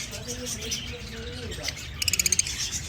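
Lovebirds in a pet shop let out quick bursts of chirping, with a sharp rapid string of tweets near the end, while someone talks throughout.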